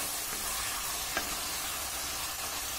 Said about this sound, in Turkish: Havuç biraz sert olduğu için bu arada o da biraz kavrulup erkenden pişmeye bakalım.